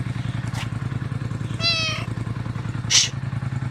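A cat gives one clear, drawn-out meow close by over a steady rumbling engine idle, with a brief faint squeak before it and another short high cry after.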